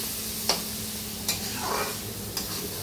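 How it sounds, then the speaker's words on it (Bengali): Chili, cumin and turmeric powders are sautéed in a pan for fish curry, a steady close sizzle with three distinct spatula taps and a brief scraping stir in between. "কষিয়ে নিচ্ছি এখন।"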